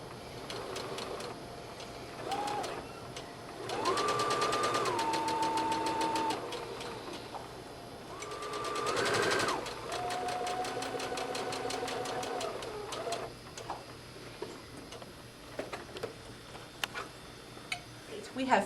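A sewing machine straight-stitches along the folded hem of an A-line skirt, running in a few steady bursts of rapid mechanical whirring with short pauses between, moderately loud and close, with a voice talking over parts of it.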